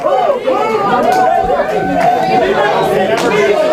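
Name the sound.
cheering crowd at a sports final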